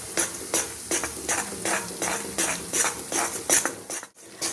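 Gram flour roasting in hot ghee is stirred in a pan for besan laddoos, a rhythmic series of scraping spatula strokes over a continuous sizzle, close and fairly loud, stopping briefly near the end.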